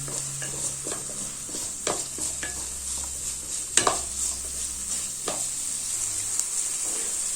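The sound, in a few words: frying onion, green chili and capsicum in pan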